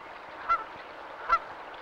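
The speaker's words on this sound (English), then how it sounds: "Canada geese stretch out their long necks to pick up food." Canada geese on a lake give two short honks about a second apart, moderately close over a steady outdoor background hiss.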